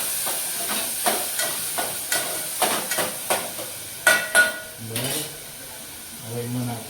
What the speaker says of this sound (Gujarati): બરાબર આ હલાવીશું